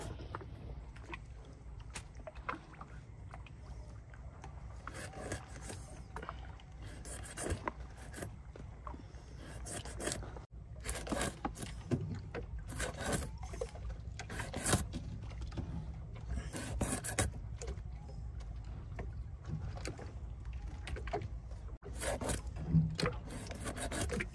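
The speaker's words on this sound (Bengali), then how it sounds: "আমি এবার এগুলো কাটবো, সাদা মাছ।" White fish are cut up on a boat during a night fishing trip, with repeated rasping, scraping strokes and sharp knocks coming in uneven bursts. The sound is fairly faint and close over a low background rumble.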